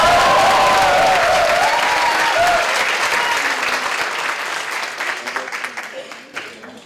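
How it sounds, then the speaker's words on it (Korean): A crowd at a Democratic Party committee launch ceremony bursts into loud, close applause that holds strong for a few seconds, then thins into scattered claps and fades out. "예, 다시 한번 박수."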